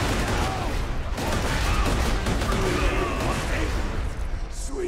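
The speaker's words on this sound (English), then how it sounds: "this entire dam is being barraged by the Helio space station now" In the Borderlands 2 video game, the Helios space station barrages the dam, producing a dense, continuous rumble of blasts and gunfire with whooshing projectiles. Someone talks over the bombardment.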